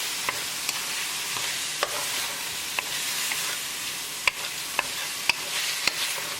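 Chicken breast seasoned with salt and black pepper is stirred in a pan, a steady sizzle running throughout with sharp scrapes and clicks of the utensil against the pan at irregular intervals, close and moderately loud with no talking.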